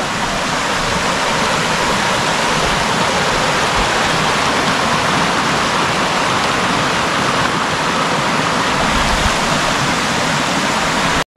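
Water rushes loudly and continuously near a waterfall in Gaspésie, a dense, even roar that holds unbroken from start to finish with no voices.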